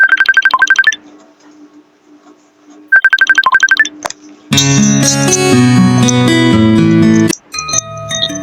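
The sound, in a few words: current Messenger app ringtone playing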